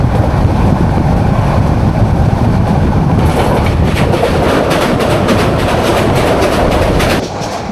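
Mahanagar Provati passenger train running from Dhaka toward Chattogram, a steady loud rumble with rail clatter and wind buffeting throughout, fading slightly at the end.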